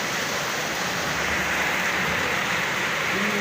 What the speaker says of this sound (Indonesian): Hujan itu. Baru deres tenan iki.